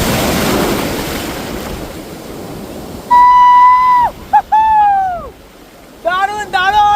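Ocean waves wash onto the wide Puri sea beach as a broad rushing roar that fades after a few seconds. Loud tonal, voice-like calls then follow in bursts.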